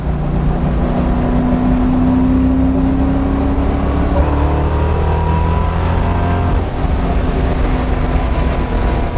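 A Chevy Camaro engine hums steadily and rises in pitch as it accelerates, loud and close throughout with a constant low rumble.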